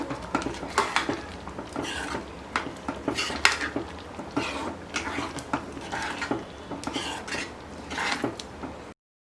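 A spoon stirs dal makhani in a metal pot, giving repeated close scraping and clinking strokes in an uneven rhythm with no talking.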